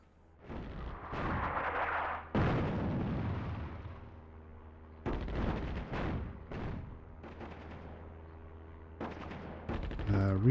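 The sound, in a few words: artillery firing in the RTS video game Attack at Dawn North Africa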